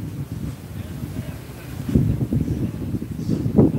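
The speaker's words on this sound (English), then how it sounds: "It's pretty windy out here." Wind rumbles against a microphone outdoors in low, uneven gusts that swell louder toward the end, with faint muffled sounds beneath.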